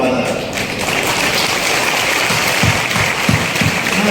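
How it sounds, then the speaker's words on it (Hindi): An audience at a Hindi poetry gathering claps in a dense, continuous burst of applause, with a voice speaking over it. "ये तालियां 10 गुना कर लो"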